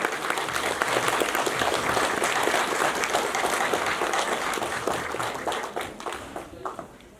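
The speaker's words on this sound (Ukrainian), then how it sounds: "Ці оплески вам, шановні люди." Crowd applause at a village harvest festival in Nemyriv, Ukraine, a dense sustained clapping from a large outdoor audience that holds steady for several seconds before thinning and tapering off near the end.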